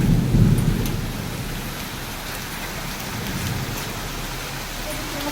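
A hailstorm with heavy rain and thunder, heard from inside a house. It is a steady, dense patter with a low rumble near the start, continuous throughout and with no talking.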